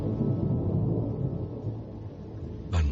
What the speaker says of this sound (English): And the thunder slams a final door.